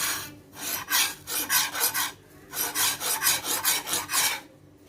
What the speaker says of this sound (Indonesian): Oke, kita mulai mengasah.